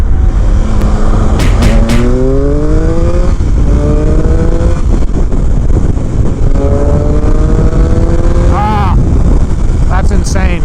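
A 2019 Triumph Speed Triple RS motorcycle accelerates hard through the gears using its quick shifter, the loud engine note rising in repeated steps with quick cuts at each clutchless upshift, heard amid constant wind roar and occasional rider talk.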